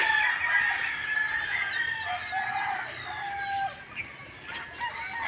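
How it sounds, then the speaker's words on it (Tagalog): Chickens outdoors, with several birds clucking and crowing in overlapping calls throughout, fairly close and moderately loud over a quiet background with no talking. "Nakakaykay po ng manok."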